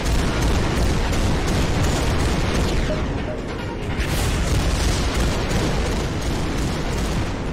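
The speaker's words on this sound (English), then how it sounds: "So if I hold down the top buttons, I get lock on. There go my missiles." Missiles launching and exploding in the VR video game Beach Head: a dense, continuous, loud barrage of booming blasts and rumbling detonations, with faint talk underneath.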